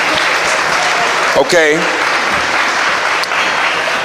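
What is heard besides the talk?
audience applause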